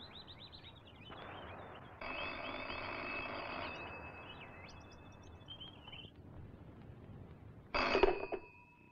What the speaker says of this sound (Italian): La quotidiana telefonata di Gabriella.